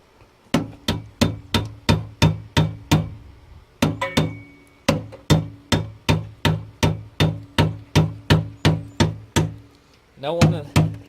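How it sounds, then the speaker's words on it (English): Hammer striking a car hood in a steady run of sharp metallic blows, about two per second, with a short pause midway before the pounding resumes, then a brief voice at the end. "I need that hammer."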